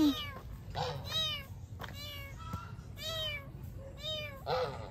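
A cat meows repeatedly at a zoo in Tagaytay, six or so loud, close, drawn-out cries with brief pauses between, over a low background rumble.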